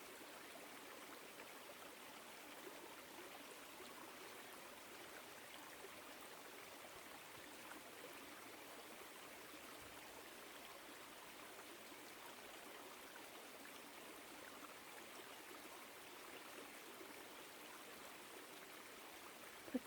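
A woodland stream flows steadily through an autumn setting, a faint and even wash of rushing water that continues without a break, with no voices.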